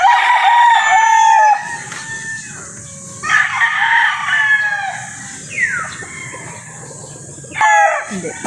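A Boston Black stag rooster with a straight comb crows loudly and close by, giving several drawn-out cock-a-doodle-doo calls with clucking between them.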